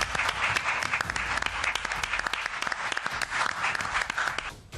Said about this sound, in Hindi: पूरा हाल तालियों से गूंज उठा